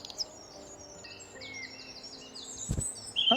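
Birdsong in a mountainside video game level, a series of high chirps and trills over quiet ambience, with a brief low thump near the end and no voices.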